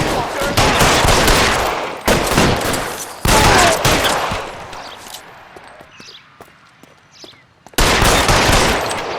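Gunfire in the video game L.A. Noire, with loud rapid bursts of shots in several volleys separated by brief pauses, sporadic single cracks and distant echoes between them.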